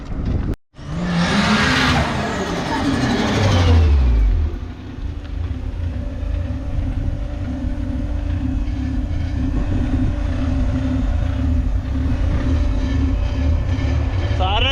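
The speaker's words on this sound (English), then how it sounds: "the wastegate sounds super different. It's a little bit lazier." A tuned car engine pulls hard and loud up through the revs, then drops back as the wastegate chatters, leaving a steady rumbling idle with faint talk underneath.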